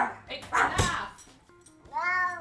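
A house cat gives a short meow near the end, following close, animated talk and scuffling indoors.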